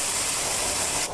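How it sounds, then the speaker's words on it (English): A short, loud, close blast of compressed air blows dust off a turned pen blank, a steady hiss that cuts off abruptly at the end. "I'm gonna blow it out just to make sure there's no dust"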